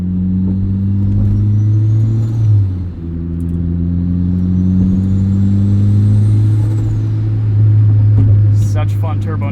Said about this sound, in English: Such fun turbo noises.